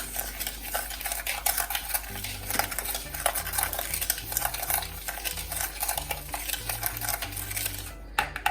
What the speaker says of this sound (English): and then I'm going to stir these